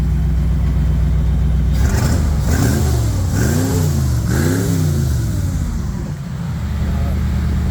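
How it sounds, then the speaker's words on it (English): A Bombardier vehicle's engine idles with a steady low drone, then revs up hard several times in rising and falling surges at high throttle before settling back to idle, heard up close. "do we dare bring it up to high throttle again?"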